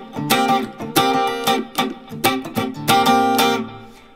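Electric guitar playing funk chord voicings with the flat seven, root and fifth: choppy, rhythmic strummed stabs in short bursts, loud and close with no voices.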